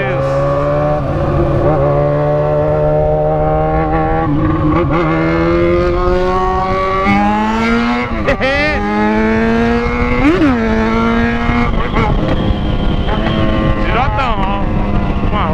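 A Yamaha XJ6 motorcycle engine roars loudly while being ridden, its pitch climbing steadily through gears with sharp revving spikes and shifts, wind buffeting the microphone throughout and a rider's voice occasionally audible.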